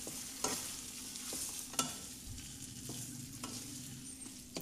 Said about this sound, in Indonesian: Masukkan ayam dan kita aduk-aduk sebentar.